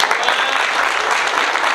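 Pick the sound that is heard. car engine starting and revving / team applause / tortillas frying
team applause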